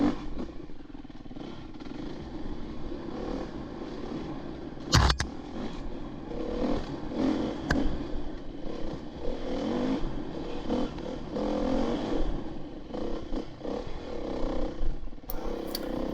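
A four-wheeler ATV grinds along a rough, rocky trail, its engine droning steadily throughout with rising revs, clattering knocks and one sharp impact as it climbs over rocks.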